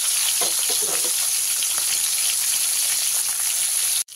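Rohu fish pieces fry in hot oil in a wok, a steady dense sizzle with crackling spatters near the start, continuous and close, with no talk, cutting off abruptly at the end.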